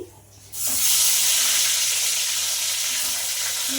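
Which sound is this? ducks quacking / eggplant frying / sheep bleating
eggplant frying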